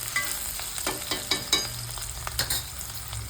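Bitter gourd (kakarakaya) fries in a pan with a steady close sizzle, broken by irregular scraping clinks and stirring knocks from a utensil.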